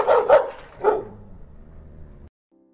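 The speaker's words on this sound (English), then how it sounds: "The dogs on their part raised their pitch to cry." Dogs bark in a story about an encounter with a langur, three sharp barks in quick succession, close and loud, then a brief fading tail before silence.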